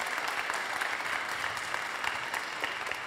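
Even, continuous applause from an audience at a user conference after a speaker's talk, fairly distant and uniform with no voices standing out.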